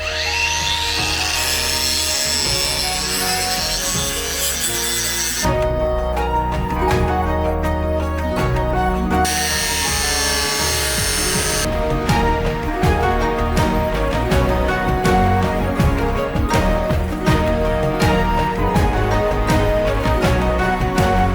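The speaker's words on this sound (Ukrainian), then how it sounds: "це я різав зачисним кругом по металу" A ProCraft PW2200 brushless corded angle grinder fitted with a cleaning disc grinds hard against metal, a loud continuous high whine with harsh rasping texture and brief shifts in pitch as pressure changes.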